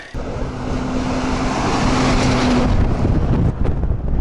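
A car passes along a road in rural Mongolia, a steady broad rumble of tyres and engine that holds loud across the whole stretch, with wind buffeting the microphone and no talk.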